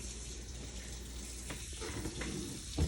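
Warm water runs steadily from a kitchen tap for a sourdough batch made with 800 grams of flour, a continuous close hiss of flow with slight splashing shifts throughout.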